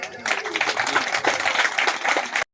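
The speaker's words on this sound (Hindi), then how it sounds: "ताली बजा दें" Wedding guests break into a burst of applause with dense clapping that lasts a couple of seconds and stops abruptly, fairly loud, with some voices mixed in.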